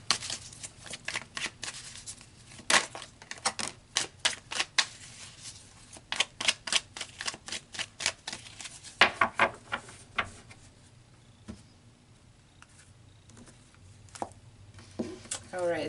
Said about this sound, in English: So let's pull some more cards